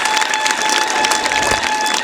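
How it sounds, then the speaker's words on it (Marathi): An audience claps heartily at a Shiv Jayanti 2022 quiz contest, a short burst of steady, close, even applause. "जोरदार टाळ्या याच्यासाठी"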